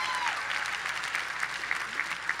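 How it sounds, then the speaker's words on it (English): An audience at a commencement ceremony applauds the speaker's wife of 48 years, a brief burst of crowd clapping with a few sharper individual claps standing out, steady throughout and with no speech. "Give her a round of applause for that."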